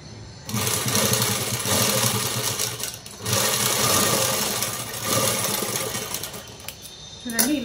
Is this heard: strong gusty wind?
no